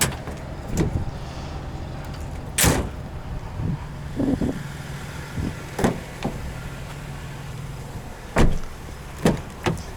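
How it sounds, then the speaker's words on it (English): Power windows on a 2018 Toyota Tacoma TRD Pro with a 3.5-liter V6 whir and thump inside the cab, several short bursts and clunks scattered over a quiet idle. "Automatic windows, of course."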